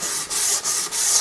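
Sandpaper rubs lightly over the wooden bearing edge of a bass drum shell, three or four quick back-and-forth strokes close up, with brief pauses between passes.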